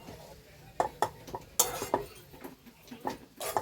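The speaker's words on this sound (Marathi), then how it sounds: "मध्ये मध्ये खाली लागू नये म्हणून फिरवत राहायचंय झाकण काढून." A spoon stirs dry chana dal in an uncovered pan over low heat, giving irregular scraping clinks and knocks against the metal, close and fairly quiet.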